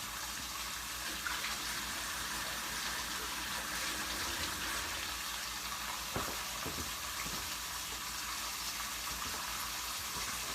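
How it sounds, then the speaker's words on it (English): Water from a kitchen tap hisses steadily as hands are washed, a dense constant splash close by with a few faint knocks partway through. "I'll wash my hands real quick"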